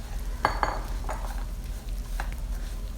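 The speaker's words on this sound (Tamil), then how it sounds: "இதை லைட்டாக பட்டரில் நம்ம வந்து வறுத்து எடுத்துக்கணும்." Crushed vermicelli stirred and roasted in melted butter in a pan, with a few light scraping and clinking stirs over a quiet, steady background, no voices.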